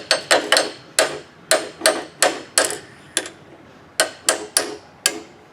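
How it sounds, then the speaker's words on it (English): A bent motorcycle piston stuck in place gets a dozen or so sharp, close metallic hammer taps in quick uneven bursts, with a short pause before the final few strikes. "See if we can't straighten it up just by a little tappy tap."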